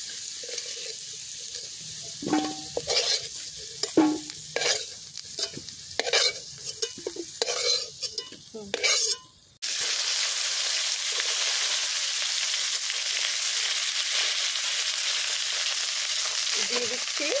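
Potatoes fry in hot oil in a pan, first with intermittent scraping and stirring clatter, then giving way to a steady, close hiss of sizzling that holds evenly until the end.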